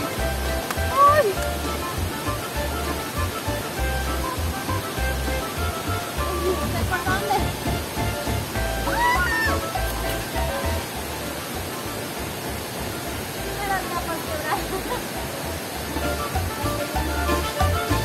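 Freshwater waterfall on a hike among seven cascades, a steady broadband roar of falling water filling the whole scene at close range, with faint birds and low rumbles beneath.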